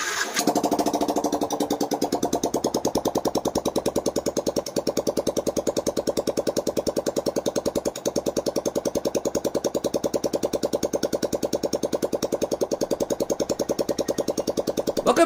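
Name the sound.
rebuilt motorcycle engine running, engine beat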